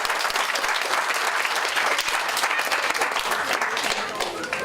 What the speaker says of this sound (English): How about a round of applause for the Kingston Library?